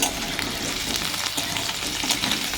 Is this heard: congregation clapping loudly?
no